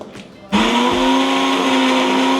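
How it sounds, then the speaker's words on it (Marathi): A mixer grinder blending cooked rice with a little milk starts suddenly and then runs as a loud, steady motor whine that holds its pitch without breaks. "सो मिक्सर मध्ये मी भात भात घेतला आहे त्याच्यात दूध टाकायचं थोडस थोडस दूध घातलंय आणि आता तो फिरवून घ्यायचा"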